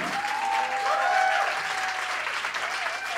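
Live concert crowd at a string-trio show applauding steadily with cheers and whistles rising over it, a dense, loud wash of clapping that holds for the whole stretch.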